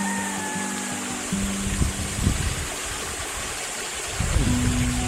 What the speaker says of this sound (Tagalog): Ang ganda, may ilog din dito.